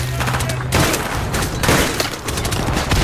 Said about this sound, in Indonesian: Kayaknya aku ngelempar granat gak kena orang.